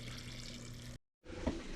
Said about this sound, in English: we're going to add hot water to the jars